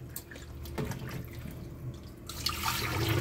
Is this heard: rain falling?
no